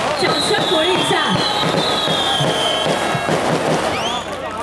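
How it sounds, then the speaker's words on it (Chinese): A crowd at an outdoor political rally at a temple in Longqi District, Tainan, cheers and applauds in a steady, dense roar lasting several seconds, with high whistle-like tones and voices mixed in. "掌声鼓励一下"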